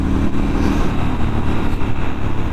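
A Triumph Scrambler 1200 XE motorcycle engine rumbles loud and steady while riding, a deep continuous throb with no talk over it.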